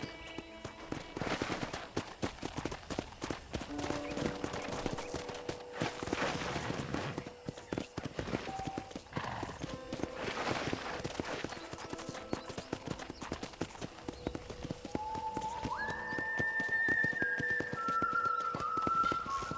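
Horse hooves clip-clop in a quick galloping rhythm in the video game Red Dead Redemption, continuous and fairly faint, with a soft tonal backing rising toward the end.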